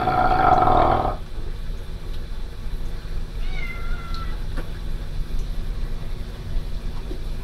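A house cat lets out a loud, drawn-out meow up close, followed by quieter room noise and a faint, brief second cry.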